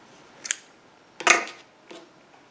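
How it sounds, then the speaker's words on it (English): Scissors snipping yarn during a crochet project, three short crisp cuts close by in a quiet room, the middle snip loudest. "And then just cut the previous colored yarn."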